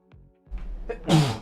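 A single sharp sneeze bursts out near the end, preceded by a short sharp inhale and some low rustling.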